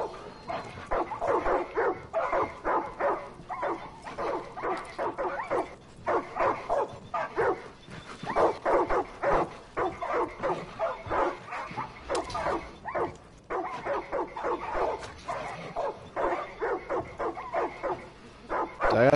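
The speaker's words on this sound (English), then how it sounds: "Damn, those dogs are tripping." Dogs bark and whimper in a dense, continuous flurry of short yelps and woofs, close and loud, with barely a pause for nearly twenty seconds.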